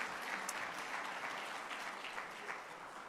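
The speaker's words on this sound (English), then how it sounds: "Another round of applause, please," Applause from a seminar audience at an ICT week ministerial event in Jamaica, a soft, distant, even patter of many hands clapping for a few seconds.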